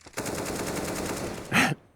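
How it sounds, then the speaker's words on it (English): A rapid automatic burst of gunfire from Counter-Strike on the de_nuke map, shots fired through a wall, crackles steadily for over a second and ends in one louder, heavier blast. "Just some wild wall bangs coming out."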